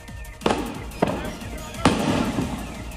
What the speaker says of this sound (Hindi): ये धमाके दुकान में रखे फ्रिज के कंप्रेसर के फटने से हुए